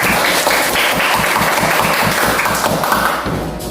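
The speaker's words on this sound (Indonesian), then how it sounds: "Kurang semangat nih, tepuk tangan dulu untuk Kesia" A classroom of students claps for a classmate during a lesson, a loud, dense burst of hand claps that holds steady for several seconds and tapers slightly at the end.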